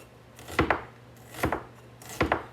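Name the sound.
knife slicing vegetables thinly for pickles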